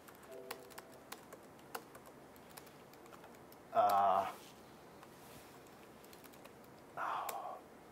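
Typing on a Mac keyboard during a database coding talk: faint scattered key clicks under a quiet room, with a man's speech cutting in twice in short bursts.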